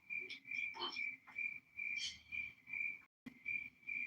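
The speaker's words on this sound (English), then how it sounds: "I don't know who's doing the cricket sound" A cricket on a continuous high, steady chirping trill that runs through nearly the whole stretch, breaking off for a moment just past the three-second mark before resuming at an even level.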